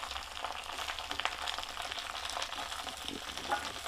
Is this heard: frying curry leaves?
yes